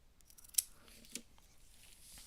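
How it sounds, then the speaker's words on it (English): Scissors trim the corner of a paper doll, giving two sharp snips in a quiet room, close and faint. "trim this corner off here so that it fits"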